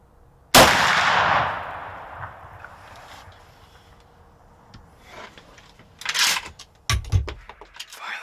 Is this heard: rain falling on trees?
no